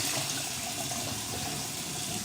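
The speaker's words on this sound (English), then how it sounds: "turn off the water, which is making a lot of noise" A tap runs steadily at full flow into a sink, a loud continuous hiss and rush of water, close and unbroken, with no voices over it.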